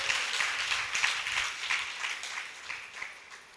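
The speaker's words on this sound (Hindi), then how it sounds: "एक बार तालियां तो बजा लो।" A crowd at a religious cow-story discourse in Hathras claps together, a brisk, steady patter of many hands that slowly tapers in loudness toward the end.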